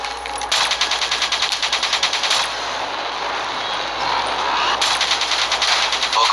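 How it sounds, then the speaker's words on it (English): Minigun fire in the video game Call of Duty Black Ops 3, loud sustained rapid rattling bursts with a dense buzzing texture, one long stream followed by a brief lull and another burst, set against continuous battle noise. "that minigun from the mobile armory."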